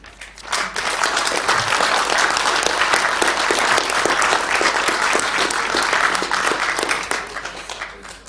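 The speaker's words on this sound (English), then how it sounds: "perhaps we could express our thanks with a round of applause" Sustained applause from a council chamber audience at a full council meeting, steady dense clapping rising quickly and holding loud throughout with no talk over it.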